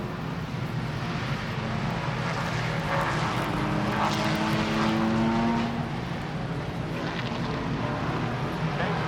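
Race cars, including a number 9 Camaro and a 61 Mustang, roar around a track in a sustained, dense engine drone that stays loud and steady throughout, heard from a distance with a faint commentator voice underneath.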